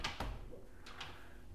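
A door in a modern house opens with a quick latch click and brief rattling swing, close and fairly quiet, followed by a softer second clack.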